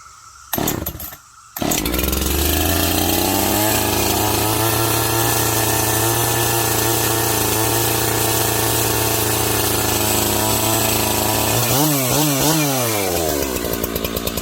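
A gas-powered chainsaw starts after a couple of short pull bursts, then runs loud and close at a steady idle-to-rev drone before its pitch wavers near the end, with no talk.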